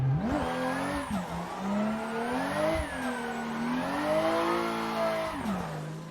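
A car engine revs hard while drifting in the Assetto Corsa racing game, pitch climbing and dropping in repeated surges as the throttle is worked, with faint tire squeal and no talking.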